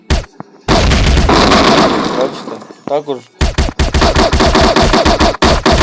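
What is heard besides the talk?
gunfire from a video game weapon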